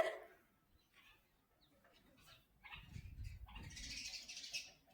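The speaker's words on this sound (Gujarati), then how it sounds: "જો અહીંયા ઘણી બધી ચકલીઓ આવી ગઈ છે" Sparrows chirp in short, scattered bursts, faint at first and growing busier toward the end, with soft fluttering and low rustling underneath.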